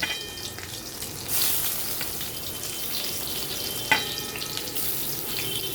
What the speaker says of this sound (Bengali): এইগুলো এক এক করে এই তেলের মধ্যে দিয়ে দেবো। দিয়ে এর গাগুলোকে একটু লাল লাল করে ভেজে নেব।